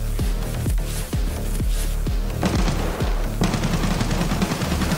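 Gunfire in a realistic military shooter game: a string of sharp, evenly spaced single shots, then heavier overlapping bursts and rumbling fire toward the end, close and loud with no talking.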